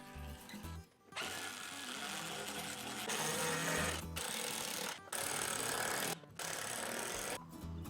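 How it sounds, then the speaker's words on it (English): A drill bores a 3/8-inch relief hole and drives a 1/2 by 5 inch lag screw into the house studs during pool deck framing, a steady, loud grinding whir broken by several brief pauses. "I'm pre-drilling a 3/8 of an inch relief hole, then driving a 1/2 inch by 5 inch lag screw right into the house studs"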